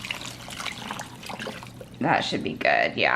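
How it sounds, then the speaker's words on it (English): Four cups of water pour into a cooking pot, producing a bubbling, gurgling stream in two close bursts near the end. A person talks briefly over the start. "The last thing I'm gonna add is 4 cups of water."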